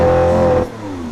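A Lamborghini Aventador S Roadster holds a steady, loud high rev in launch control before the engine note drops off abruptly to a quieter falling tone.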